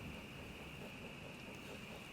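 Steady rain and gusting wind on a stormy night, a continuous dense wash of noise with a faint rumble underneath, with no voices.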